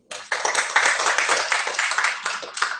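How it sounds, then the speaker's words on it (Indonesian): A church congregation claps steadily and loudly for a few seconds, a dense wash of many hands applauding together. "Berikan tepuk tangan untuk Tuhan."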